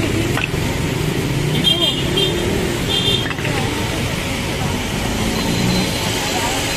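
Steady road traffic rumbles along a busy street during a clearing operation on a crowded roadway, with engines and vehicles passing continuously and brief higher-pitched squeals and clatter. A person talks over the noise.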